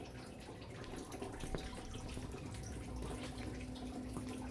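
Faint, continuous trickling and splashing of water still pouring out of a clogged drain near a bathtub, a steady low wash with a few soft drips.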